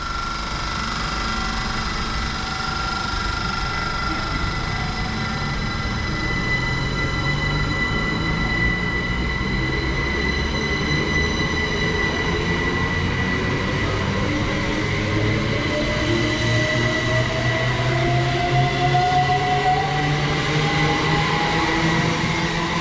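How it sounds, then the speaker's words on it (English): A Great Western Railway passenger train departs a suburban Reading-area station toward Didcot Parkway, its engine droning and wheels rumbling as pitch slowly rises, steady and fairly close, with faint squealing tones. "departing out now is going to be the 1557 Great Western Railway service to Didcot Parkway"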